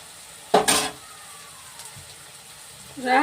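Lotte fish frying in a pan in a village kitchen, a low sizzle broken by a sharp clatter near the start and a rising scrape at the end, faint voices now and then.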